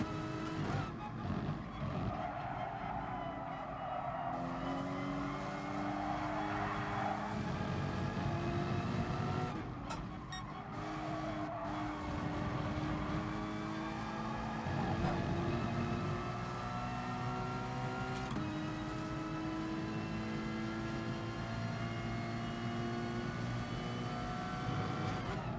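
Porsche Cayman race car in GT Sport, engine droning steadily throughout with rising and falling pitch through gear changes and braking, loud and close, no talk.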